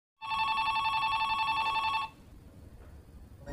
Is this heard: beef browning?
no